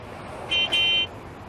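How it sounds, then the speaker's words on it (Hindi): A car horn gives two quick, high beeping honks over a steady background hum. "हाय, ये हॉर्न, इसको भी यहीं बजाना है।"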